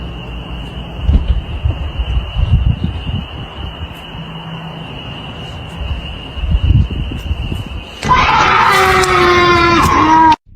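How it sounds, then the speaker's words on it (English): A blood-curdling, human-like scream rings out in a dark forest at night, loud and sustained near the end after a stretch of quiet rustling ambience with a steady high tone. "A blood-curdling scream ripped through the silence."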